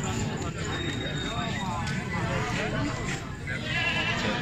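A goat bleats briefly at a busy livestock market in Gujrat, partly buried under steady nearby talk and crowd noise.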